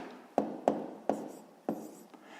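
Hand writing out a math solution, likely chalk or marker on a board, with four or five sharp tapping strokes at uneven intervals, close and clear with no voices.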